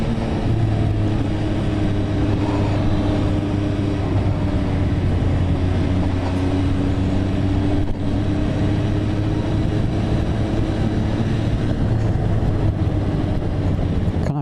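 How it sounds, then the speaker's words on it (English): A Dragster 800 motorcycle engine with standard exhaust drones steadily while being ridden, a loud continuous low hum with wind rush, holding fairly constant pitch throughout with no talk. "Engine sounds amazing. It's got standard exhaust on it as well."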